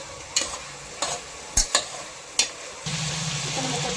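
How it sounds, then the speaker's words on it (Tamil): Pre-cooked beef fried in oil for a beef curry, with several sharp scraping stirs of a spoon in the pan over a steady sizzle that swells louder near the end. "இப்போ நம்ம கறியை ஆட் பண்ணியாச்சு. இப்போ நல்லா இதை ரோஸ்ட் பண்ணிக்கலாம் எண்ணெயில்."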